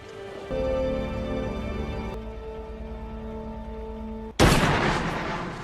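A gunshot in a zombie film, where a character named Michael shoots himself: tonal music plays, then one loud, sharp broadband blast cuts in near the end and rings on briefly.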